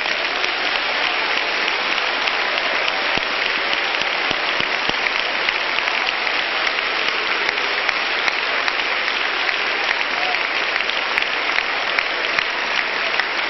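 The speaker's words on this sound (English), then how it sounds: "Clap your hands and praise Him." A church congregation claps hands in praise during a sermon, producing a continuous, dense, loud roar of applause that holds steady throughout with only faint crowd voices beneath.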